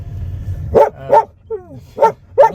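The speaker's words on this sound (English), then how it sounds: "with a very, very, very good guard dog in the car" A dog barks from inside a car during a drive into town near the Ravne tunnels in Bosnia, giving four or five sharp, close barks in an uneven rhythm after a low engine rumble, with a short whimper between them.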